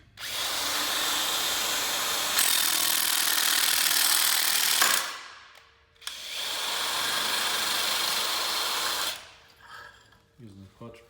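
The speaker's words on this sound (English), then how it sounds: "Using the clutch puller to remove the primary clutch with the impact." An impact wrench drives a clutch puller to remove the primary clutch of a 2016+ Arctic Cat snowmobile. Two long, loud buzzing bursts are separated by a short pause, and a few light clanks follow at the end.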